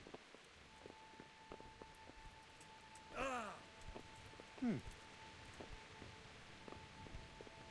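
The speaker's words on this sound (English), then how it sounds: "the rain got all muffled inside" Muffled rain heard from indoors in the video game Kingdom Come: Deliverance, a faint, steady patter under quiet ambience, broken by two brief louder voice-like sounds partway through.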